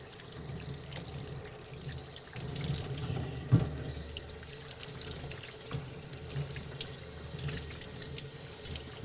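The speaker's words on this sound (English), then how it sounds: "just rinse off all your soap." Water runs steadily from a sink tap while soap is rinsed off an engine cylinder part, a constant close splashing stream with occasional louder splatters and no speech.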